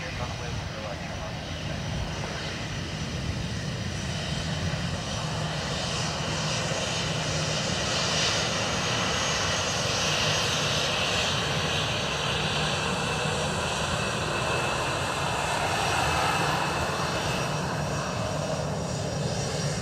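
A jet airliner thunders along runway 10 right at Dublin Airport on its takeoff roll, a loud, steady roar lasting the whole stretch with broadband engine noise that swells slightly midway.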